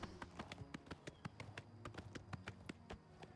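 Horse hooves clip-clop at a steady trot in Oblivion Remastered, a quiet, regular series of sharp taps over faint game ambience.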